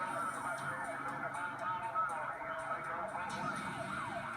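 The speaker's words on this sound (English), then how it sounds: "The pursuing sergeant's siren moves traffic to the right" County sheriff's sergeant's police siren during a highway pursuit of a stolen Buick, a repeating wailing sweep heard at moderate distance over traffic noise.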